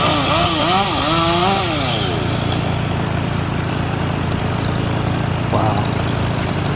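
A chainsaw trimming a big tree in Tarpon Springs, Florida, its engine droning loudly and continuously with rising and falling revs, and people talking over it.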